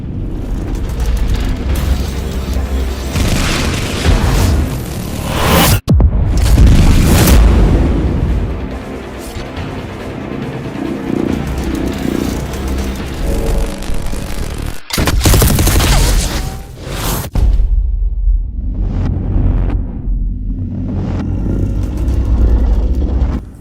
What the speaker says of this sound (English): Here we can also see the Psychers blasting away the Marines that are shooting at them